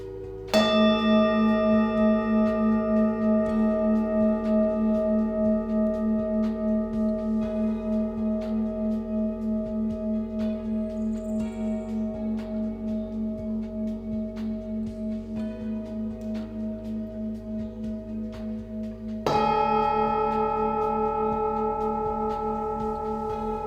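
A Tibetan singing bowl is struck, giving a bright metallic strike that rings into a long, pure, slowly wavering hum fading gradually, then a second strike near the end renews the sustained tone; no talk.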